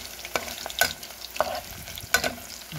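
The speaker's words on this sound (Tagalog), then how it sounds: "Medyo malagkit-lagkit na siyang gisa-gisahin ng luya" Ginger browns in a pan of oil for arroz caldo. A constant sizzle runs under several distinct utensil scrapes and knocks as the slices are stirred.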